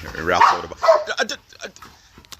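Dogs playing outdoors near garden hoses, giving a few quick, loud barks and yips close by, mixed with excited whimpering and short broken noises.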